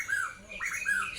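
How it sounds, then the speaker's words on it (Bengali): A bird gives a few squeaky, chirping calls close by in a village in the morning, rising and falling in a quick repeated pattern. "সকালবেলা কিচিরমিচিরে যে পাখিগুলো ডাকে"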